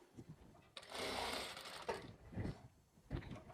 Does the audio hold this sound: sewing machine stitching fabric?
yes